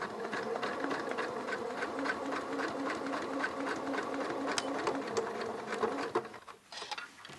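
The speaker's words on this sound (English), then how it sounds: "as I sew, take it away and it sews nice and evenly" A sewing machine stitches steadily through about eight layers of denim, a close, even, buzzing run of rapid needle strokes that stops abruptly near the end, leaving a few faint handling noises.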